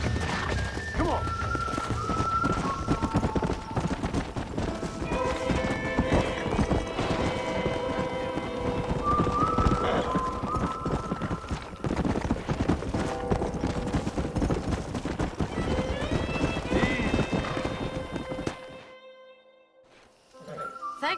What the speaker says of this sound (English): We got some fine horses.